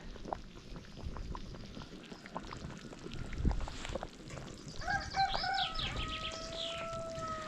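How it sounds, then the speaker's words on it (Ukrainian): Stew of pork knuckles in tomato sauce boiling in a covered cauldron over an outdoor campfire, a steady soft bubbling and simmer that runs throughout at low level, with a few brief clinks and tonal squeaks near the end. "Так, все кипить, все булькоче."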